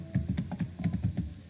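Quick, light keystrokes on a computer keyboard while filling in a Google Form, about a dozen close taps in an uneven rhythm, with no talking.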